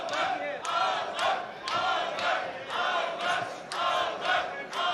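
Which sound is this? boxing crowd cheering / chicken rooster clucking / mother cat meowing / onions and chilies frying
boxing crowd cheering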